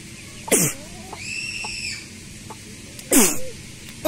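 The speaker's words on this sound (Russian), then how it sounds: "Сейчас чихну." Two sharp, loud sneezes burst out a few seconds apart inside a chicken coop with chicks and hens, while faint high chick peeps sound between them.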